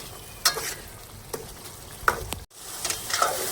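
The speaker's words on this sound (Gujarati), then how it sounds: "આપણે મિત્રો 5 મિનિટ પાકવા દેવાનું છે અને હલાવે રાખવાનું છે ઘડીક ઘડીકમાં" Tiger prawns cook in a pan with a small splash of water, a steady low sizzle broken by several sharp scraping stirs of a spoon, close and clear, with no voices.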